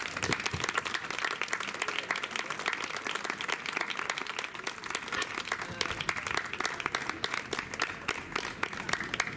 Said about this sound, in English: please, one applause for our guests